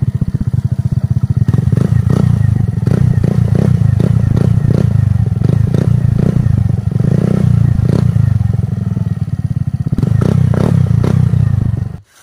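A Suzuki Burgman 125 scooter idles and revs with no silencer fitted. The exhaust is loud and close, a deep, bassy, steady rumble with a few light clatters, running continuously for about twelve seconds before it cuts off.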